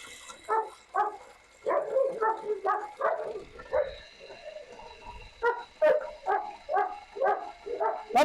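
A pet dog at home gives a series of short, yippy barks and whimpers in bursts, close by and fairly loud, with a person talking softly in between.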